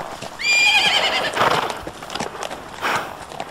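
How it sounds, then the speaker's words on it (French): Small purple dwarf ponies whinny in a loud, shrill neigh, followed by steady clip-clopping hooves and a second fainter neigh near the end. "ce sont des poneys nains violets"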